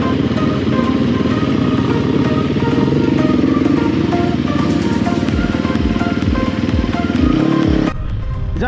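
A motorcycle is ridden hard on lanes around Bradford, Ilkley and Keighley. Its engine roars loud and close, revving with shifting pitch for several seconds before dropping away sharply near the end.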